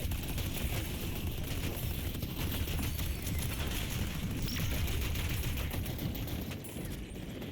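Deployed turret in a video game firing continuously, a dense, steady rattle of rapid shots in a busy game mix at moderate loudness.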